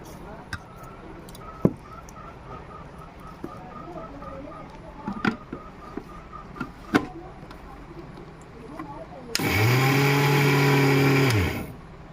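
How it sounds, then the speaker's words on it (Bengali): A mixer grinder blends coconut, flattened rice and sugar in its jar. It whirs loudly and steadily for about two seconds after a run of scattered clicks and clatter, then winds down. "তারপরে মিক্সি দিয়ে দিব"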